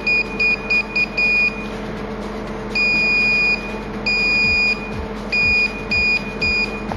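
Electronic buzzer on a fastest-finger detection system built on a Xilinx Spartan 3AN FPGA, beeping in repeated bursts, some short and some longer, a steady high tone over a low background hum.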